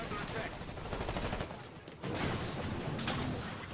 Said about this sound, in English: I hear HMG shots